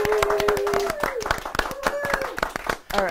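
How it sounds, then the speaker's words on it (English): Audience applauding a kindergarten class's first-place win at the SARSEF Science Fair, with steady close clapping from many hands throughout, mixed with cheering voices rising and falling over it. "Let's give them a round of applause."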